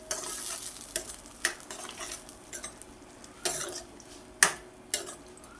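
A spoon scrapes and clinks through bottle gourd bharta with coriander and spices in a pan, in irregular stirring strokes over a soft sizzle, close and fairly quiet with no talking.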